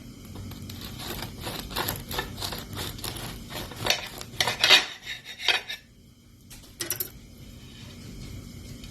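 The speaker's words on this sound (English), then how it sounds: "when they cool, we're going to cut our nice, delicious bread" A knife sawing through a freshly baked no-knead loaf, crackling crust and rhythmic scraping strokes close up, with a few clinks of metal and board near the end.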